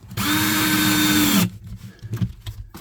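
A power drill or driver spins loudly up close for just over a second, driving a screw into new furniture, then stops, followed by a few quieter handling knocks and taps.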